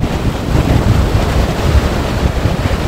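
Strong storm wind roars across a harbour in Karataş, Adana, where a moored fishing boat was driven aground. The blustery noise is loud and continuous, with buffeting gusts mixed with surf and no voices.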